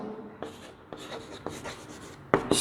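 Pen or marker writing on a board during a math lesson on graphs and slope, a series of quiet, short scratching strokes with tapping starts, close and alone without talk.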